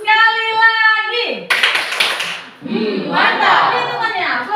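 Seventh-grade pupils in a religious education lesson chant, then give a burst of group clapping, followed by more children's chanting and voices continuing over it.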